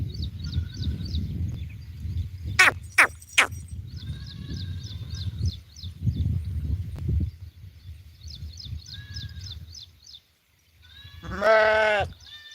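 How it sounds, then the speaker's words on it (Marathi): Goats in a shepherd's herd bleating several times at close range, loud calls spaced between low rustling and ambient noise, with other animal cries mixed in. "पन्नास शेळ्या आहेत आकाशच्या"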